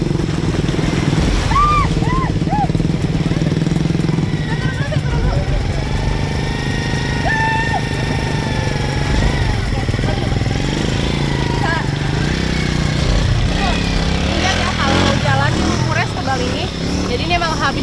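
A motorcycle labours through thick mud on a rural village road after rain, its engine droning steadily and revving unevenly throughout, close and loud, with voices talking over it.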